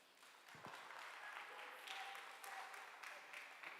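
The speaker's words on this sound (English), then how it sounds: "So we have to clap for our sister." An audience at a women's month security awareness talk claps for a speaker, a fairly quiet, steady patter of applause with a few voices mixed in.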